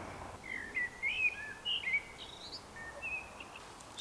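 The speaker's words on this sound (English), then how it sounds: "it's nice to see and hear the birds in the trees" Birds sing in the trees around a wild campsite, a series of faint, thin chirps and short warbling phrases over quiet outdoor background hiss.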